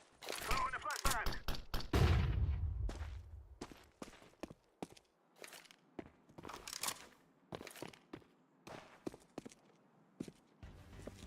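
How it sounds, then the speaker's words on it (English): A flashbang grenade goes off in a shooter video game with a loud, sharp burst and a low rumbling tail, followed by scattered clicks, cracks and footsteps in a quieter space. "Throwing a flashbang."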